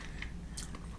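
A bite into a crunchy matcha white chocolate snack with dried strawberry from a Tokyo 7-Eleven gives a few quick, close crunches against a steady low background.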